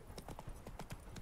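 Hooves of Roach, a horse in The Witcher 3 video game, clip-clopping in a quick, steady rhythm at moderate distance.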